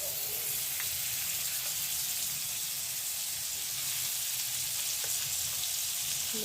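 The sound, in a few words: butter sizzling in a kadai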